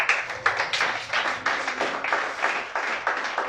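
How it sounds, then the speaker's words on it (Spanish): A church congregation claps in a steady rhythm, each sharp clap distinct and fairly close, repeating several times a second throughout. "Y ahí nos aplaude, ¿verdad?"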